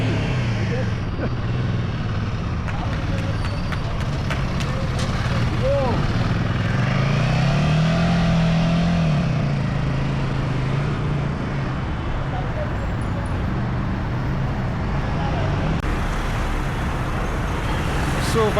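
A Royal Enfield Himalayan 450 motorcycle on its first ride after delivery, engine drone and road and wind rumble filling the clip, with a rising and falling engine note midway and voices talking over it.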